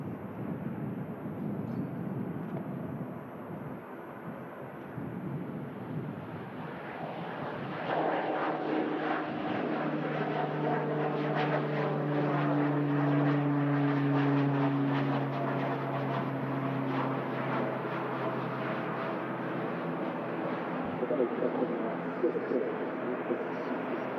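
A jet airliner taking off at Manchester Airport, a broad engine roar swelling and rising in pitch, sustained and loud at a distance, with people talking faintly over it.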